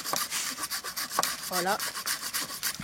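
Hand saw cutting green wood while building an outdoor cabin, heard as rapid rhythmic rasping strokes at close range, with a brief spoken word partway through.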